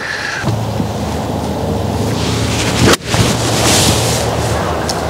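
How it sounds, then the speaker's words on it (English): Gusty wind on an open golf course buffets the microphone as a steady, loud broadband rush, dipping briefly near the middle before surging back. "The wind."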